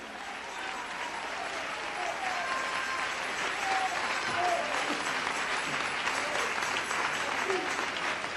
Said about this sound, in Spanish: Dele ese aplauso al Cristo de la gloria